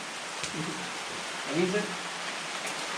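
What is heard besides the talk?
rain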